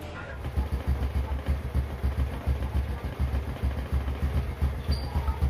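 A 2006 Honda Supra X motorcycle engine idles steadily nearby, a low, even putter with a regular pulsing rhythm and no talking.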